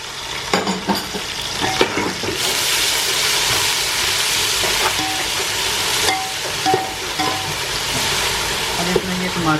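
Ginger and garlic fry in oil over light-browned onions, giving a steady sizzle with a spoon stirring and scraping the pan. A voice speaks at times over the cooking.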